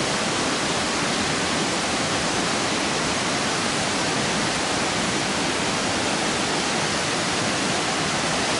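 A river rushes through a gorge roughly 10 metres below, making a steady, dense roar of flowing water that stays even and loud throughout, with no voices.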